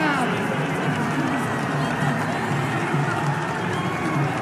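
Stadium crowd at a T20 World Cup cricket match between Pakistan and the USA, roaring and cheering steadily after back-to-back sixes, dense and continuous with a commentator talking over it.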